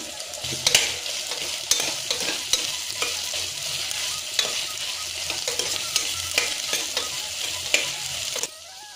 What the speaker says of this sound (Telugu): వెజిటబుల్స్ అయితే వేగుతున్నాయి కదండి.